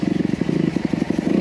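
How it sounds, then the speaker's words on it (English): A Honda CRF250R motocross bike's engine runs close by at a steady idle, with a rapid, even thumping pulse that holds level throughout. "This is a motocross bike."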